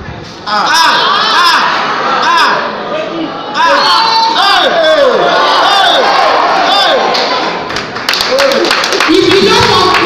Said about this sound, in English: We say clap for them.